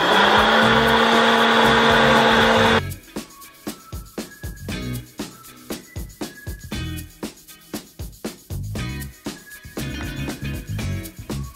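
A popcorn maker switched on with its side button whirs loudly and steadily for a few seconds, then kernels pop in rapid irregular bursts over a lighter hum.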